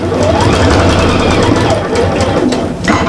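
A sewing machine stitches a double-sided Christmas cushion, fitted with an open toe foot, running as a loud, continuous close whirring hum throughout while someone talks over it.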